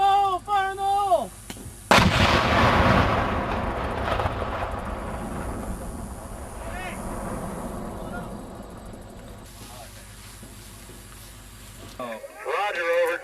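Explosive demolition of a tank by army engineers: a sudden loud blast followed by a long rumbling decay of debris and echo, with radio voices talking before and after.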